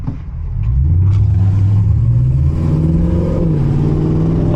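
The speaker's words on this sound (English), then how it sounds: "I think I'm hearing the fucking turbo from the Evo behind me." A Mitsubishi Evo's turbocharged engine during a race, a loud sustained drone rising and falling in pitch as it accelerates, heard steadily over the whole stretch with no talk.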